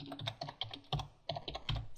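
Typing on a computer keyboard while writing jQuery code, a quick uneven run of close key clicks in small clusters, quiet and alone with no talk.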